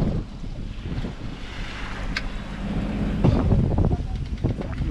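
Strong wind buffets the microphone at sea off Mallorca at night, a constant rushing roar with rough water sloshing against a boat underneath.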